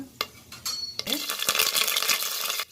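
Whole cardamom, cinnamon and cloves sizzle loudly in hot oil in a pan for chicken biryani, a steady crackling hiss after a few clinks of the utensil and spices going in.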